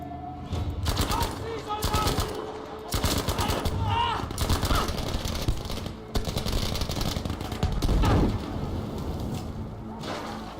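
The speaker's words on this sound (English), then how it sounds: "The explosions in this game are really good." Dense, loud Battlefield video game gunfire crackles in rapid bursts, mixed with booming explosions and rumbling, almost continuous throughout.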